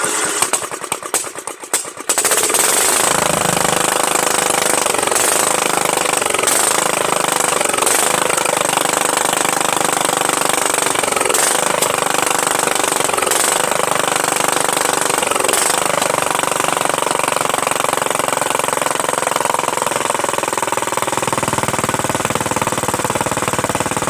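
Kohler Command CV460S single-cylinder engine on a Craftsman LT1000 lawn tractor, choked, cranks briefly with a starter whir, then catches and settles into a steady, loud idle running alone for the rest.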